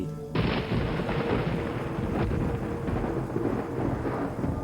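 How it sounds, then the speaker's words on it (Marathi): A sudden loud crack of thunder bursts in and rolls into a long, heavy rumble over steady rain. "तेव्हाच वीज कडाडली"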